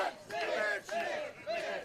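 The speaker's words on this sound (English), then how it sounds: "But this crowd does want to cheer for Mitch tonight" A wrestling crowd at an outdoor night show yells and cheers in rising bursts, three swells of massed voices close together.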